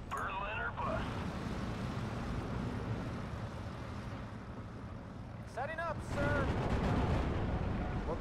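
Aerial bombing of a Lorraine vehicle in Steel Division: Normandy 44, with heavy rumbling explosions and artillery-like blasts, whining aircraft passes near the start and around six seconds, and a louder burst of detonations toward the end.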